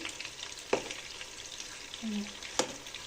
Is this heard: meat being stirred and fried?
yes